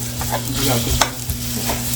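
Onions fry in a pan, a steady close sizzle with a few soft scrapes and knocks as they are stirred, and no voices over it.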